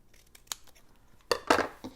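Scissors trim paper printables in a few quick, close snips, a faint cut first and then a louder cluster of crisp blade closures, with no talking.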